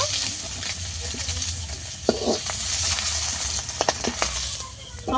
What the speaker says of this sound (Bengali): একইভাবে আমি এই মাছগুলোকেও ভেজে নিয়েছি তুলে নেব